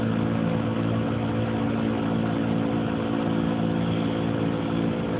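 A motorboat engine on a river runs steadily with a deep, even rumble and hum, close and constant throughout, with no voices.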